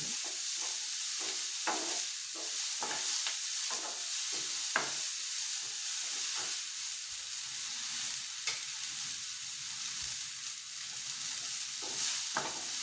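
Gongura leaves sizzle and fry in a hot pan with a steady, close hiss, broken by frequent short clicks and scrapes of stirring, with no talking.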